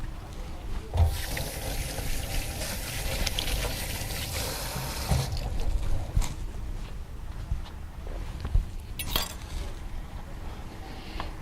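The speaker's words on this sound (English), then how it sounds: "Let me rinse off my hands real quick." Tap water runs steadily into a kitchen sink while a chef rinses his hands after shaping crab cakes, with splashing and an occasional clink of glass or dishes nearby.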